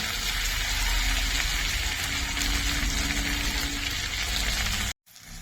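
Onion and tomato sautéing in a pan give a continuous loud sizzling hiss, steady throughout and broken by a brief dropout near the end, with no talking.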